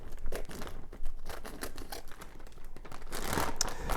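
Crinkling plastic as a resealable Ziploc bag of semi-thawed frozen mixed berries is handled, close and fairly loud, with repeated rustles and crumples through the whole stretch.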